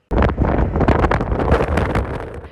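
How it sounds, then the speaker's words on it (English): Strong wind gusts over the hazy Las Vegas Strip roar as continuous, heavy buffeting noise that batters the microphone throughout, loud and close with no pauses. "A very hazy Las Vegas strip with noisy gusts."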